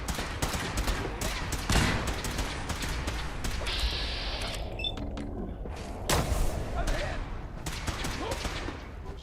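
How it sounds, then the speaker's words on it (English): A Gatling laser fires in Fallout 4 in rapid, sharp bursts, with loud crackling shots mixed among other combat noises and a short electronic tone partway through, while a voice talks over the gunfire. "I love me a Gatling laser."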